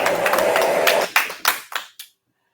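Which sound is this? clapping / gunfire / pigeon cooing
clapping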